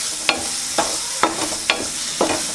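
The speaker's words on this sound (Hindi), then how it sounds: "अब इसके बाद इसे मिक्स करेंगे" A spoon stirs Maggi noodles seasoned with salt in a pan, giving about five evenly spaced scraping strokes over a soft sizzle, close and fairly loud, with no talking.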